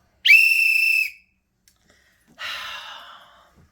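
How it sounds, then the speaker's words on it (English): A little baby doll whistle gives one loud, steady, high-pitched blast lasting under a second, then after a short pause a breathy, airy exhale follows, close and clear. "Little baby doll whistle."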